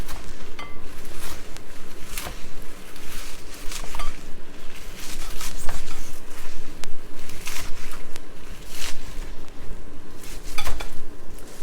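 A knife chops kale and other vegetables for Cajun black-eyed pea soup on a kitchen board, giving loud, close, repeated irregular thuds and clicks with brief pauses and no talking.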